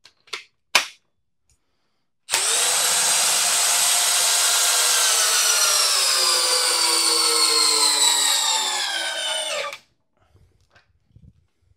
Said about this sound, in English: Both of these drills can drive this lag all the way down.